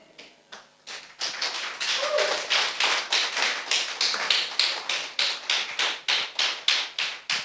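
A congregation claps in a steady rhythm of sharp, evenly spaced hand claps that go on for several seconds after a slower start, loud and close with no talk over them.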